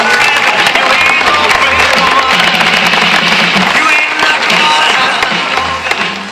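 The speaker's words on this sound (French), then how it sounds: "Nous pouvons l'applaudir bien fort." Audience applause at a sea lion show at ZooParc de Beauval, a loud, dense and steady wash of clapping and crowd noise filling the whole stretch, easing slightly near the end.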